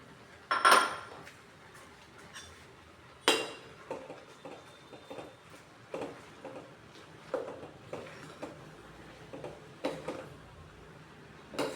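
Fenugreek leaves going into a cooking pot of nearly cooked dal, stirred with a utensil, giving a run of sharp metallic clinks and taps on the pot at a fairly steady rhythm, moderately close with no talk.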